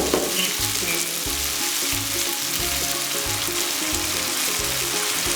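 A pan of Coorgi chicken curry sizzles and hisses steadily as half a cup of water goes in, with a dense bubbling crackle and soft repeated stirring thumps underneath.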